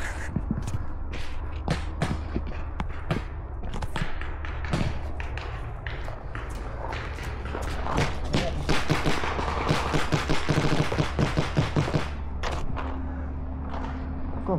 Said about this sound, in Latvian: Kaut kurienes viens arī šauj.